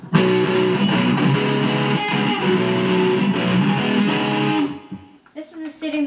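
Distorted electric guitar sustaining a thick, buzzy chord for several seconds, then stopping and giving way to a few quieter, sparser notes.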